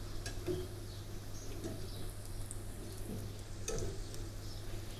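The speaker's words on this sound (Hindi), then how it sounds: "कचौरी फ्राई करते हुए कभी भी बहुत जल्दी ना करें, इनको बिल्कुल लो मीडियम फ्लेम पे आप फ्राई करें" Chicken kachori deep-frying in oil over a low-medium flame, giving a steady, even sizzle with a low background hum and a few faint clinks, no talking.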